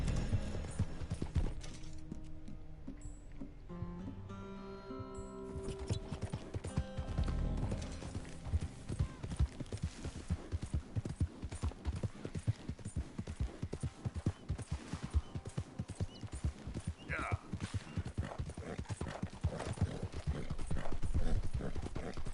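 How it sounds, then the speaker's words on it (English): Horse hooves clip-clopping in the Red Dead Redemption 2 video game, a steady rapid trotting rhythm of close hoof hits with gear and tack rattles over game music throughout. "Cause this is a horse."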